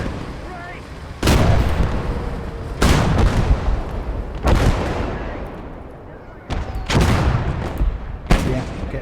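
Incoming mortar fire in a World War II-era war video game set from D-Day to the Rhine: several heavy booming impacts land in irregular succession, loud and rumbling, with reverberating tails between them.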